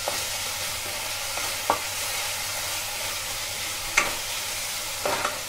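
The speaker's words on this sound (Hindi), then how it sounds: "टमाटर को हम थोड़ा सा गला लेंगे," Tomatoes with a little red chili stirred and softening in a pan for butter Maggi, giving a steady close sizzle with a few sharp spoon scrapes against the pan.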